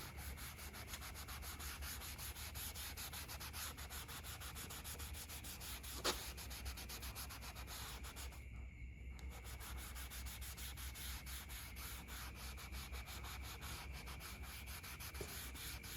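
Tire and trim dressing is worked in with an applicator pad, giving a steady, close, rapid rubbing swish that runs unbroken throughout with one brief lull.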